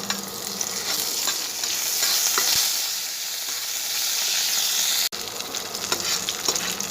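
Curry leaves and chana dal crackle in hot oil for a bitter gourd poriyal, a loud continuous sizzle close up with the scrape of stirring throughout and a brief cut near the end.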